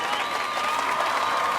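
Crowd at an American Ninja Warrior qualifying course cheering and applauding for a woman competitor, a steady, dense wash of clapping and cheers that stays loud throughout the short stretch.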